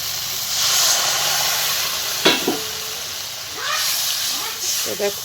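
Water is poured into a hot pan of browned fish curry, sending up a continuous loud steam hiss and sizzle with a few stirring clinks. Someone talks briefly over the sound.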